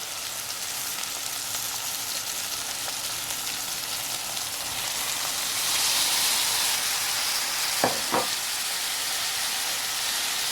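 Ackee added to a pot with saltfish, a steady soft sizzle that swells partway through, followed by two sharp knocks of a utensil against the pot.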